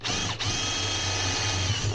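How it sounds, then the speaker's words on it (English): A power drill whirs continuously at high speed, drilling angled holes into wood, loud and close, with a brief dip near the start. "Instead of drilling straight through, I'm"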